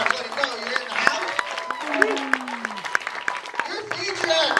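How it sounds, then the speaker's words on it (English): A comedy club audience at Plan B Improv claps in a burst of sharp, uneven hand claps under an announcer's voice. "Put your hands together for Mr. Beatty Barnes. Clap for Beatty Barnes."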